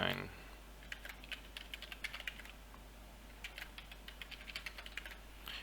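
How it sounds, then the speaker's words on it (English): Numbers are entered on a computer keyboard's numpad as a run of quick, light key taps, irregular in rhythm, heard close but quietly against a low background hum. "If you want to type in numbers faster, on the very right of your keyboard there should be the numpad"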